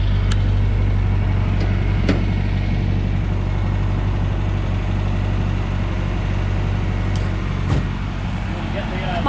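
An MGB sports car engine idling steadily nearby, a low, even rumble running unbroken throughout with a few faint clicks and a voice speaking over it.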